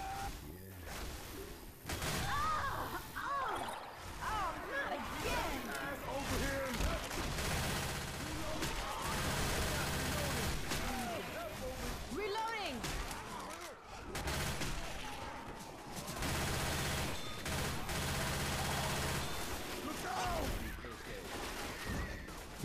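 Left 4 Dead 2 match with dense gunfire, rapid bursts and overlapping shots from many weapons crackling almost continuously, with players shouting and talking over the chaos.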